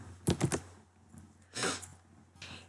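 Computer keyboard keys pressed in a quick cluster of three sharp taps, then a softer key press and a faint later click, close and alone with no talk.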